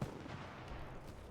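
Explosion and gunfire in the video game Battlefield 4 form a dense, continuous wall of rumbling blasts and crackling shots, with no clear pauses throughout.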